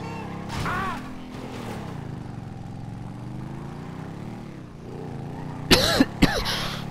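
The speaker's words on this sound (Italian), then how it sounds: "Scusate, tosse." A person coughs sharply two or three times in quick succession, loud and close, over a steady engine drone from the GTA V driving game.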